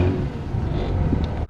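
A manual Hyundai Avante with its stock exhaust rumbles at a low, steady idle, close and moderately loud, for a moment before an abrupt cutoff.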